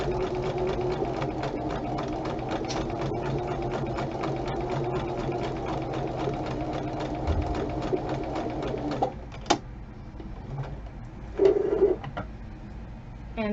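A sewing machine runs steadily, stitching a zipper onto fabric in one continuous burst of about nine seconds, then stops, leaving a quiet room with a brief click and a short rustle of handling.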